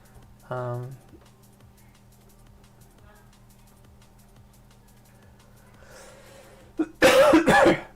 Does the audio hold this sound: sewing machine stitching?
no